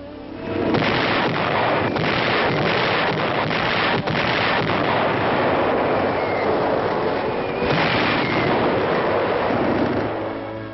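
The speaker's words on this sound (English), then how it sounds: "Yank artillery opens up on the advancing Germans." American artillery fires on advancing German troops in World War II, heard as a continuous loud roar of booming blasts and rumble with harsh, crackly, band-limited sound throughout.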